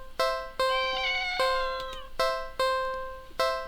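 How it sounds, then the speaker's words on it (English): A black cat with yellow eyes in a big cardboard box at the end of an alley gives a series of short, sharp cries at an even pace, one drawn-out, sliding meow in the middle, all close and clear. "At the end of the alley, in a big cardboard box, is a cat."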